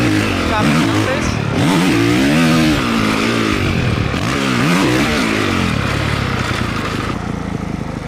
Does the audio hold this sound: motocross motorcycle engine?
yes